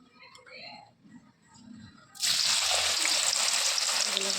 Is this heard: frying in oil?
yes